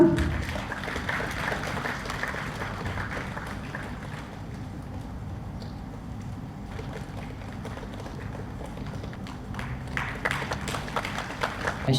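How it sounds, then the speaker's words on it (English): Audience in a district auditorium in Tura applauds at a Teachers' Day award ceremony, a long, even stretch of crowd clapping that swells slightly near the end. "A big round of applause,"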